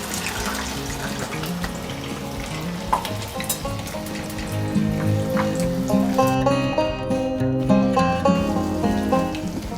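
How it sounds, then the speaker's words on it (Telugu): Urad dal vadas frying in oil, a steady close sizzle and bubbling that grows fuller partway through, with faint clinks of utensils and no talking. "గారె గోల్డెన్ కలర్ వచ్చే వరకు ఫ్రై చేసుకోవాలి."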